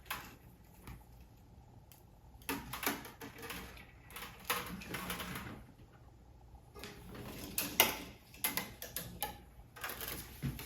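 Babolat Star 5 tennis stringing machine pulling string tension, irregular ticking and clicking mechanical adjustments with soft whirring, close and fairly quiet, no talk.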